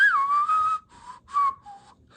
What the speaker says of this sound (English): Well, he tries to whistle.